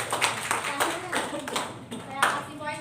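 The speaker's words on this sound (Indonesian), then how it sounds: "Beri tepuk tangan buat Mbak Anissa." Applause in a classroom during a microteaching session, with broadband clapping bursts under ongoing speech from a teacher and students.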